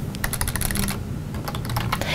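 Rapid keystrokes on a computer keyboard type a short workspace name in Adobe Illustrator CS6, a dense run of close, crisp clicks with a brief pause midway before the tapping resumes, with no voices.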